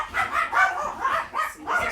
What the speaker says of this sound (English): No barking, ladies.